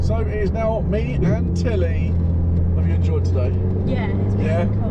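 A car engine hums low and steady in the background while driving, a constant drone beneath a man and a girl chatting in the cabin for the whole stretch.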